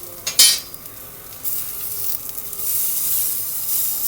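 Courgettes frying in a pan beside potatoes for sausage and mash, a steady close sizzle with a few sharp stirring or utensil clatters near the start; no one talks.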